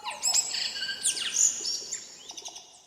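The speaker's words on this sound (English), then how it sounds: "I'd enjoy listening to the beautiful call of the tui bird" Tui song from New Zealand: a run of bright whistles, liquid warbles and sharp upward and downward sweeps, close and clear over a quiet outdoor background, with short clicks and chirps near the end.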